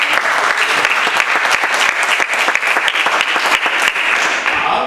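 A church congregation cheers and applauds loudly in praise, dense sustained clapping mixed with shouts filling the hall for the whole stretch, with no talk over it.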